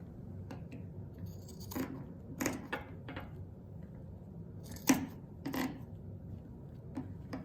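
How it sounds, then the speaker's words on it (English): Scissors cutting through t-shirt fabric along marked lines toward masking tape, quiet irregular snips and rustling rubs at close range, faint and sparse. "You only want to cut to the masking tape."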